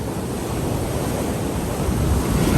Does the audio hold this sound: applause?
no